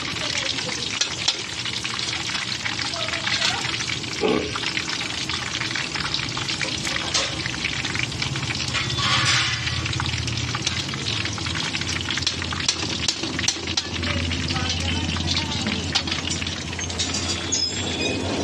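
Carrots and radish frying in hot oil give a loud, steady sizzle with crackling and occasional stirring, close up and continuous.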